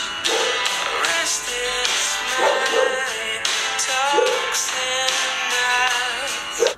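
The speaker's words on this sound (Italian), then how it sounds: "Oh, cane di giù!" A dog barks downstairs in a house, several sharp barks spaced through the stretch and heard beneath loud rock music playing throughout.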